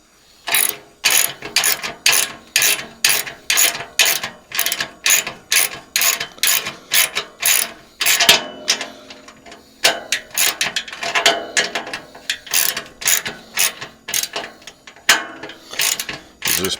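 A ratchet wrench clicks in quick repeated bursts while bolts are tightened on the bottom legs of a sand blasting box, with brief pauses between runs of clicking close to the mic.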